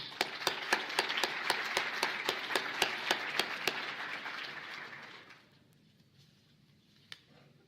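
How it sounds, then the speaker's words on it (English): A round of applause for sponsors and supporters at a health forum, dense clapping from an audience with a few sharp individual claps standing out, fading out after about five seconds into quiet room tone with one last clap. "please join me in thanking all of our sponsors and supporters at this time with a round of applause"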